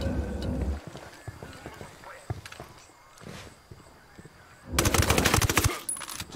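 Gunfire in Ghost Recon Wildlands, scattered shots with hoof-like clatter and shuffling early on, then a loud sustained automatic burst near the end, with voices speaking between the shots.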